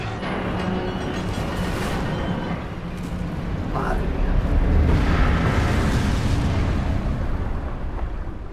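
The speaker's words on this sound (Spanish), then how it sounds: "¡Madre mía, qué explosión!" A factory collapses and explodes in the video game Resident Evil 5, giving a loud, sustained rumbling blast with crashing debris and a swell in the middle that stays dense throughout the clip.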